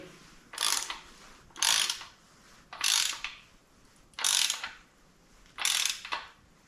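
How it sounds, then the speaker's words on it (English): Crankshaft of a Buick 455 engine turned with a ratchet wrench, five evenly spaced bursts of loud rapid ratchet clicking separated by short pauses, close up and with no talk. "Now I'm going to make sure that the crank spins good still."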